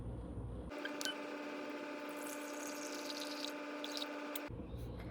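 Water pours into a bowl on a kitchen scale while making castile soap. It is a faint, steady stream lasting about four seconds, with no talking.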